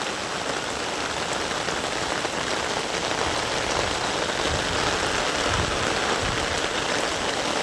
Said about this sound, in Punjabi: ਪੂਰੇ ਜ਼ੋਰਾਂ ਤੇ ਨਹੀਂ ਜ਼ੋਰਾਂ ਸ਼ੋਰਾਂ ਤੇ ਮੀਂਹ ਚੱਲ ਰਿਹਾ